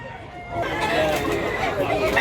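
A medium-sized rooster crows at a live chicken market in Mantalungon, Cebu, a single drawn-out call rising over steady crowd chatter and background noise, with people talking nearby.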